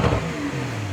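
A Porsche 992 911 with an APR tune revs in neutral, a brief loud engine blip that settles into a steady mid-pitched drone, heard close with no talk.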